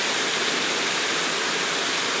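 Lost Creek Falls pours in a steady, dense wash of rushing water, constant and fairly loud for the whole stretch with no voices over it.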